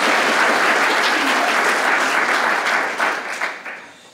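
Audience applause for the debaters at an Oxford-style debate, a loud dense wash of clapping from a large crowd that holds steady, then tapers off toward the end.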